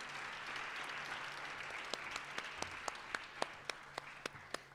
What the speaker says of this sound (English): let's give Sakina another round of applause